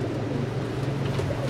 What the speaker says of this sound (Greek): Εδώ βλέπουμε αυτές τις περιστερούκλες